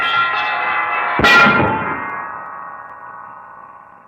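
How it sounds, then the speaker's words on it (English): A large church tower bell crashes down in a radio drama effect. A held metallic ringing gives way to one loud, heavy clang, and a long shimmering ring slowly fades. "The center bell! The big one is falling!"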